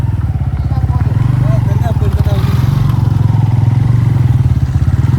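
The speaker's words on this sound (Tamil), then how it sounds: "ஒரே ஒரு வண்டி வருது." Motorcycle engine on a dark, unlit road at night, a close, steady mid-pitched throbbing drone that holds loud for several seconds, with a voice speaking over it.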